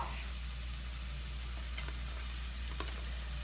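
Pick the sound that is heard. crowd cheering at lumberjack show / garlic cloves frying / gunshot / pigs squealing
garlic cloves frying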